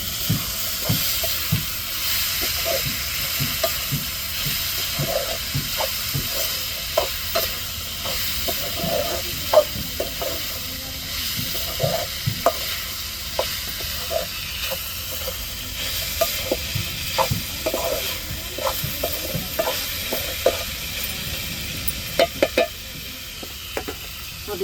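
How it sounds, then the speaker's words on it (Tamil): Dried fish fries in a pan for a coconut-milk rasam meal, a constant close sizzle broken by frequent sharp scraping clicks of stirring, with no talk. "அப்படியே வேகட்டும் கருவாடு."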